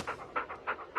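A dog pants rapidly, with four quick rhythmic breaths in about a second, close and moderately loud, with no talking.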